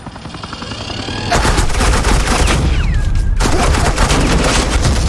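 Sustained automatic gunfire from Batman: The Enemy Within fills the scene, starting softer and then erupting into a loud, dense fusillade of rapid shots that runs without a break to the end.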